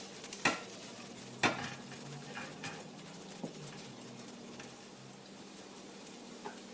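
Onions frying in a pan, a faint low sizzle with a few sharp spoon or pan knocks spaced apart, near and quiet with no talk.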